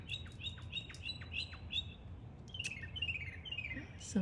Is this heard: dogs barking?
no